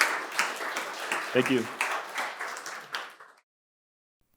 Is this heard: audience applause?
yes